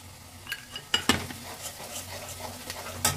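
Ground cumin and coriander powder fry with garlic paste in a pan for a Bengali mutton and potato curry, a soft sizzle under scattered metallic clinks and scrapes of a spoon stirring against the pan, close and fairly quiet.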